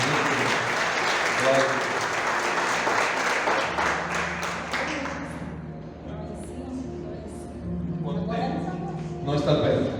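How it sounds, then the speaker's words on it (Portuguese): Church congregation applauding Jesus at a conference service, dense clapping that is loudest early and thins out, with a voice speaking and sustained music over it. "Vamos aplaudir Jesus."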